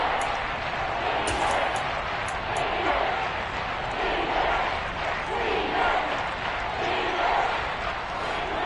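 Kansas City football crowd roaring at a stadium on third and goal, a steady, dense wash of massed voices that holds loud throughout with slight surges, no single voice standing out.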